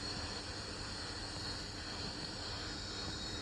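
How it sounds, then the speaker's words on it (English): An airliner taxiing to the gate in the flight game PTFS (Pilot Training Flight Simulator) gives a steady, low, even engine drone. It hums on at moderate level without variation, and no one speaks. "so right now we'll be taxiing to the gate."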